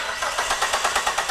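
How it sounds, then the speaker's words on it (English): Car engine cranking over without starting, a fast rhythmic whirring of the starter, close and loud, with no talk. "Crank the engine for 5 seconds while observing the test light."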